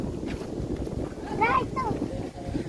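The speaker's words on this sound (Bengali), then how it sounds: "বাতাস দেখছো কি অতিরিক্ত বাতাস এখানে" Strong wind on a riverbank in the afternoon, a steady low rumbling roar buffeting the microphone throughout, with a voice briefly heard over it.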